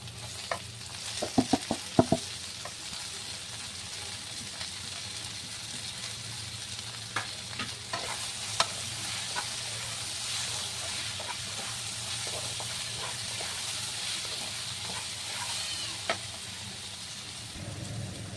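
Tomatoes, green chillies and spices fry in a pan, producing a constant hissing sizzle punctuated by several sharp clinks and scrapes of a spoon stirring, quieter and somewhat distant.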